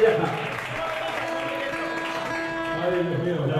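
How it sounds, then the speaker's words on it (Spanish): A live crowd at a comedic Spanish stage show breaks into steady applause and cheering that keeps an even level throughout, with tonal music or voices running underneath. "¡Un aplauso para Juanmi!"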